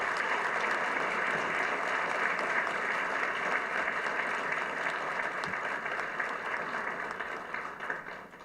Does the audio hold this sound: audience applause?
yes